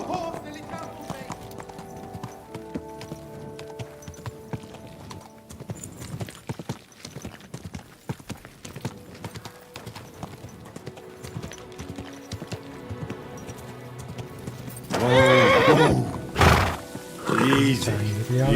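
Hooves clop steadily amid sounds of Kingdom Come: Deliverance 2, then a loud horse whinny erupts near the end, followed by more noise.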